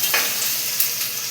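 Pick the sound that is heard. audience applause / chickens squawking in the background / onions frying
onions frying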